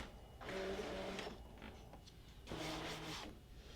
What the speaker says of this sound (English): I'm going to hit our load button and load our mat.